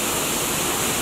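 Horsetail Falls pours steadily as a dense, continuous roar of falling water, loud and close, with no voices over it.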